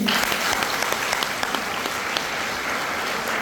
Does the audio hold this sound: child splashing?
no